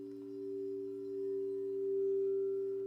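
Two singing bowls ring together in a sustained, steady drone, their tones overlapping and shimmering as they hold at an even, moderate volume with no voices.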